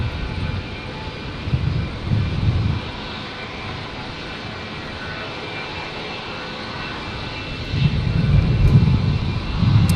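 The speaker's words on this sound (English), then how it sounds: "There is the China Eastern 330 beginning its taxi from International" A China Eastern Airbus A330 jet taxis at Brisbane International Airport with a continuous low engine rumble at moderate distance that swells at the start and again near the end.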